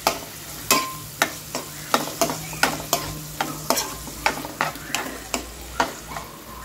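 Potato frankie stuffing spiced with garam masala and tomato ketchup is stirred in a hot pan, a spatula scraping in a steady rhythm of roughly a dozen sharp strokes over a soft sizzle, close and clear with no talking.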